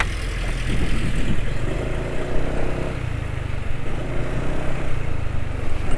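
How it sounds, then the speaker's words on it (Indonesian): A motorcycle engine runs steadily after a Jumbo oil treatment and a Rock Oil full synthetic 5W oil change, its note rough and uneven, a loud continuous drone with no speech. "Suara mesin masih kasar ya."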